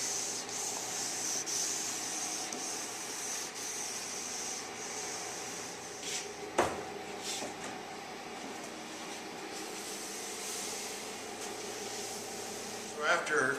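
Steady close rubbing and polishing across the finish of a dining table, a continuous abrasive hiss with faint mechanical hum behind it and a couple of sharp knocks near the middle.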